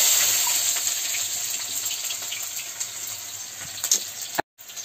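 Cumin and onion sizzle steadily in a pan over a stove fire, a broad hissing fry with small crackles and pops, moderately loud and continuous, before cutting out near the end.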